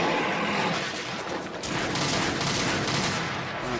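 Rapid bowgun pellet shots fire in Monster Hunter 3 Ultimate, a dense, continuous barrage of loud gunfire-like bursts with no pauses, heard alone without talk.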